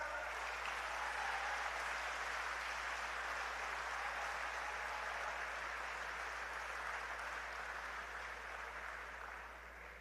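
Sustained applause from an audience at a political gathering, a steady dense roar of many hands clapping that holds evenly for the whole stretch and eases slightly toward the end, with no talk over it.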